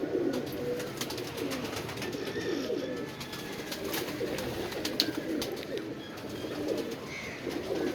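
Pigeons coo in repeated soft, throaty rounds out in bad weather, a steady rolling murmur with faint chirps and scattered clicks over a constant background hiss.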